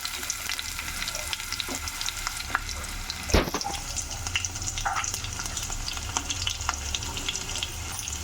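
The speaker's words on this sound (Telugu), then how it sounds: "ఆనియన్ ఫ్రై అవ్వాలి." Chopped onion frying in a pan for a potato curry, a steady close sizzle running throughout with one brief clatter midway and no talking.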